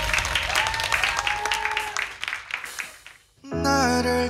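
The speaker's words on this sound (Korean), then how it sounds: "박수를 청해 듣겠습니다." Audience applause and cheering at an indoor performance after a self-composed ballad, a busy mix of clapping and voices that fades before piano-accompanied singing begins.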